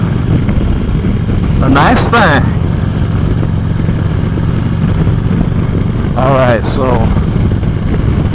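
Air-cooled motorcycle engine runs steadily through a cold ride, a loud continuous drone from start to finish, with someone talking briefly over it twice.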